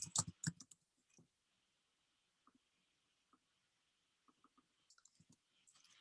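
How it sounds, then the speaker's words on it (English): A few loud clicks at the start, then sparse, quiet key taps scattered through near silence, with a short cluster of clicks near the end. "Now I can use my keyboard keys just to literally format this text."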